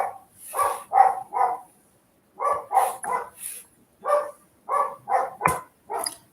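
A dog barks in quick bursts of two or three, roughly a dozen sharp, fairly close barks separated by short pauses, with no other sound in between.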